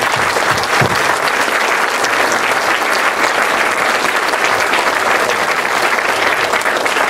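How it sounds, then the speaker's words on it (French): An audience at a morning seminar applauds itself in a steady, dense wash of clapping that fills the room for the whole stretch, with a faint voice or two underneath. "Vous pouvez vous applaudir."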